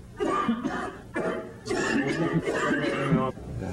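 Several throaty coughs in a row, close and fairly loud, separated by short pauses.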